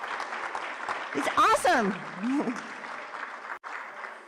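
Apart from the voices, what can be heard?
applause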